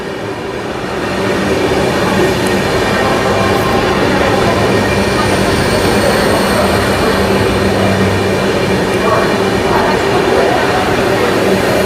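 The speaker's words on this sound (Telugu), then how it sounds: "8 కోచ్ల మినీ వందే భారత్ ట్రైన్ అండి" An 8-coach mini Vande Bharat train rolls past close by in a loud, continuous rumble of wheels and rushing air, starting after a brief quieter moment and staying steady to the end.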